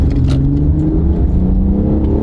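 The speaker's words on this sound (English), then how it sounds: "Strong engine. Nice shift." An SUV engine pulls hard under acceleration, a loud steady drone from inside the cabin that drops in pitch as the transmission shifts gear.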